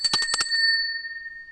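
A bright notification bell chime, several quick metallic rings struck in rapid succession and then one clear tone left ringing on as it slowly fades into silence.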